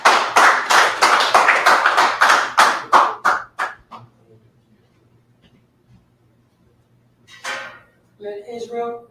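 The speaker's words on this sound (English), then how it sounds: "Clap it up." A burst of group clapping, quick and fairly loud, that fades out after a few seconds, followed by quiet and then brief voices.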